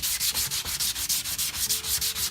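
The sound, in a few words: sanding an edge-banded plywood edge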